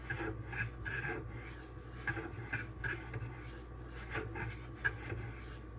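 Repeated rasping strokes of a knife blade, a Cold Steel Swift, drawn across a DMD diamond sharpening stone, a steady rhythm of close scraping passes, some sharper than others, over a low background hum.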